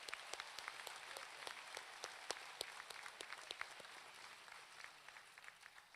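An audience at a winter graduation ceremony claps in steady, continuous applause. Many sharp individual claps stand out from the crowd, heard from some distance.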